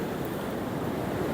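Ocean waves roll onto a beach at Drains Bay in a steady, dense wash of surf mixed with wind buffeting, loud and continuous with no voices.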